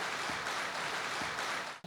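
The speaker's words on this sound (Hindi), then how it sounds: "जोरदार तालियों के साथ" Audience applause at the Hindustan Ki Shaan Season 3 event, a dense, steady wash of clapping that stays loud and close for nearly two seconds before cutting off abruptly.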